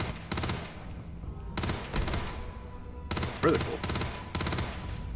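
Rapid bursts of automatic gunfire in the video game Starfield come in repeated volleys with short gaps, loud and close, and a brief spoken word cuts in.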